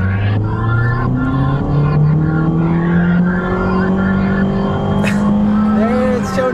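A 2023 Honda HR-V AWD with a CVT accelerates gently along a back road, its engine note rising in a smooth, steady drone as speed builds, with tire and road noise beneath and someone talking over it.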